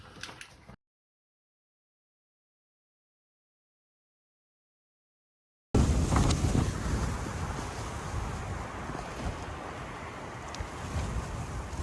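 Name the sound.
strong wind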